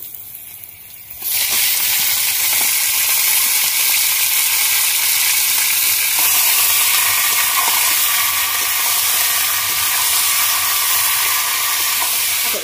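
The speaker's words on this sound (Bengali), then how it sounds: "এখন মাংস টাংসগুলো পেঁয়াজের মধ্যে দিয়ে দিচ্ছি।" Chicken meat and onions frying together in a pan for a village-style chicken kosha curry: a sudden loud sizzle bursts in after a second of quiet, then holds as a steady, close, dense hiss and crackle with no talking.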